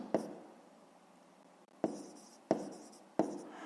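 Pen writing math notes on paper for a fifth-grade exercise: soft continuous scratching broken by four distinct taps of the pen, close and quiet, with no talking.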